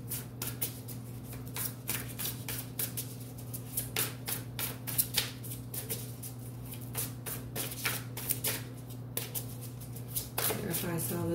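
Tarot cards are shuffled close up in quick bursts of riffling and flicking, a rapid papery clatter over a steady low hum, with a short pause near the end.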